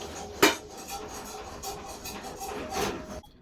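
A metal lid clanks sharply onto a pot of potato and corn curry, followed by faint kitchen shuffling and a second softer knock before the sound cuts out.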